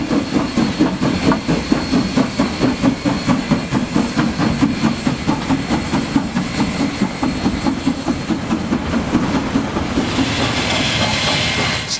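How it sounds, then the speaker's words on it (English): A steam train pulls out of Otahuhu, its wheels beating a loud, steady clickety-clack rhythm over the rails while the engine rumbles underneath, holding close and even for the whole stretch before easing into a hiss near the end. "Coupled up the train and heading out of Otahuhu at 6:50 a.m."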